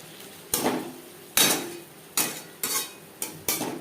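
Spices being stirred in a metal pan for a tilapia fish curry, a series of five distinct scraping clanks spaced about a second apart, close and fairly loud, each trailing off into a short sizzle, with no talking.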